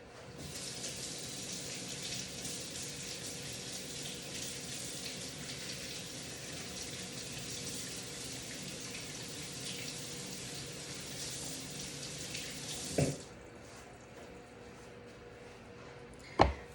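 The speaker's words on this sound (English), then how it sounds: "let me wash the spatula quick or rinse it off" Tap water runs steadily into a kitchen sink while a spatula is rinsed under it, a close, continuous gushing that stops abruptly near the end, followed by a brief clatter.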